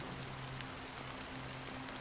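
Steady rainfall from the Honkai: Star Rail video game, a continuous even patter that fills the whole stretch without pause, with faint low tones beneath it and no one speaking.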